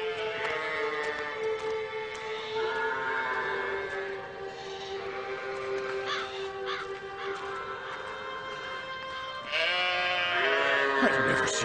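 Sheep bleating in a cartoon scene, several drawn-out cries overlapping with crow-like caws, moderately loud and continuous, growing more intense toward the end.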